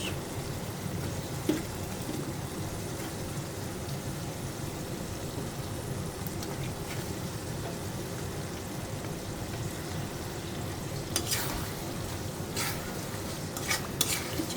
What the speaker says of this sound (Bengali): আলু আর মাছ দিয়ে দিয়েছি ওখানে একটু কষাবো